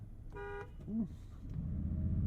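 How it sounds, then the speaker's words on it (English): A 2023 Toyota Tundra TRD Pro pickup sounds one short, firm horn blast. A brief voice follows over a low, steady cabin rumble. "And the world-famous horn test."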